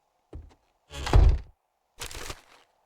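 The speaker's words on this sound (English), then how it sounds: "open the door" A door being opened in the game 7 Days to Die, heard as three separate dull wooden thunks spaced about a second apart, close and fairly loud, with no talking.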